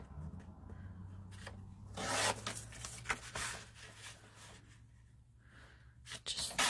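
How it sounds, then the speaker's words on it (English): Scissors cutting apart paper tags for a handmade brag book, giving soft rasping snips and paper rustles in an uneven stream, close but quiet, with a few louder crinkles. "So we're just going to cut these apart."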